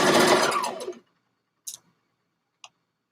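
Sewing machine stitching the underarm seam of a dress, a close burst of steady mechanical running for about a second that stops, followed by two brief faint clicks.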